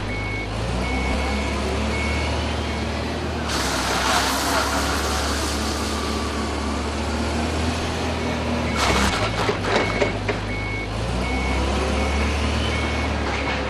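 A Linde H35T forklift reverses with a steady series of evenly spaced high beeps over its low engine drone, with a brief louder mechanical burst midway.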